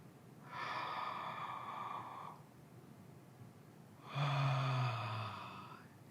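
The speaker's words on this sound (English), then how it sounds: "I'm going to do a fake yawn." A man gives two slow, deliberate fake yawns, each a long breathy, voiced drawl, the second deeper and louder, with a quiet pause between them.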